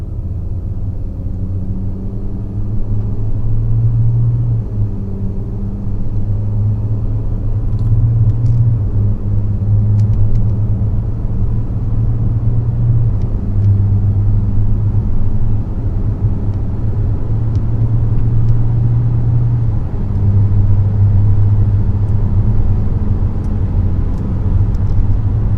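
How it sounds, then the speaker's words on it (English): An Audi Q7 TDI SUV with a Malone Stage II tune accelerates in sport mode, a steady loud low diesel drone and rumble heard from inside the cabin, with slight rises in pitch through the gears and no talking. "Again, normal acceleration in sport mode."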